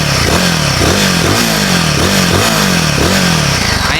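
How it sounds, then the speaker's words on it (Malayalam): A Royal Enfield Guerrilla 450 with a stubby exhaust revs loudly and close by, its engine climbing in a repeated rhythm of about five sharp throttle blips with a gruff, punchy note. "ഇതിൻ്റെ എക്സോസ്റ്റോടും കൂടി ഞാൻ കേൾപ്പിച്ചു തരാം. ഒരു കുട്ടി സ്റ്റബി എക്സോസ്റ്റ് ആയിട്ട് കൊടുത്തേക്കട."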